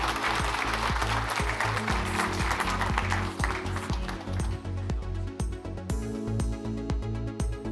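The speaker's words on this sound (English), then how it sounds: "A huge round of applause." Audience applause at a summit panel on developed versus developing nations and the green dilemma, a dense continuous clapping that stays loud throughout with no talk over it.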